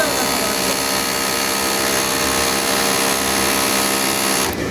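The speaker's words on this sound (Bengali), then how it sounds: "এখন সেলাই ধরিয়ে দেখবো যে সেলাই ধরতেছে নাকি।" Flatlock sewing machine being run to test its stitching after an adjustment to its teeth, giving a loud continuous high-speed industrial whine that holds steady before cutting off at the end.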